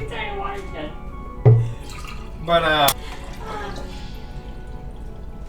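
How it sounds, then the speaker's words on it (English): Water poured into a glass, shown as a short gurgling splash and then a brief rising trickle as the glass fills, set between stretches of casual talk. "Ignore my stupid ass pouring myself water like an idiot."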